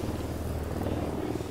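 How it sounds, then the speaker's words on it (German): Helicopter in the video game Ghost Recon Wildlands, a steady low rotor drone that fills the short clip at a moderate level without a break. "Ist ja denn der Hubschrauber?"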